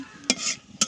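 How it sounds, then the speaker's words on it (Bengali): Dried chillies hitting hot oil in a wok over a village clay stove, two short bright sizzling bursts standing out against a quieter background hiss, close and alone. "এখানে শুকনো মরিচ দিয়ে দিলাম"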